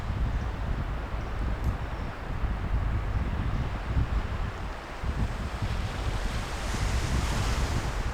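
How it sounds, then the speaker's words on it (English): Loud ocean waves on Vancouver Island's coast rush and roar continuously in autumn, mixed with gusty wind buffeting the microphone, no voices. "There's some pretty loud waves out there"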